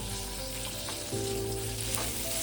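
Garlic cloves, a tomato and dried chillies fry in a pan with a continuous dense sizzle, close and fairly steady, thickening slightly partway through as the frying intensifies; no one speaks.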